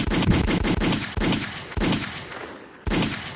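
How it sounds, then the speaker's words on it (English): A rapid burst of several gunshots, then single loud shots spaced apart, each cracking sharply and trailing off in a short echo. "I need the multiple gunshots."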